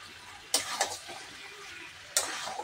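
Chicken with salt stirred in a pan: a few crisp scraping strokes of a utensil, two close together early and one later, over a soft, faint sizzle.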